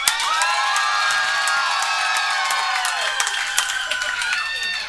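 A packed comedy club crowd at a roast battle yells and cheers in a loud, continuous wall of voices, with whoops and scattered claps rising and falling over five seconds.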